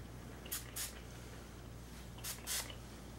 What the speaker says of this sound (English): Next thing is this Parlor spray